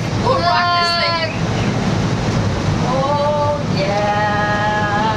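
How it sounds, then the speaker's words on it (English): Strong wind buffets a gondola high on a 187-foot Myrtle Beach sky wheel during a storm, with rain, a constant roaring rush and microphone gusts, while girls' voices squeal and exclaim over it. "It's getting really windy. It's raining out there."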